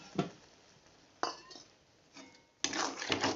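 Bathua greens simmering with a little water are stirred in a pot, giving a few separate clinking scrapes of a utensil against the metal, the last burst longer and louder, with quiet pauses between.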